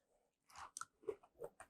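Someone bites into and chews Instant Pot broccoli topped with garlic herb breadcrumbs, eating by hand. A few close, crisp crunches come in quick succession after a brief quiet start.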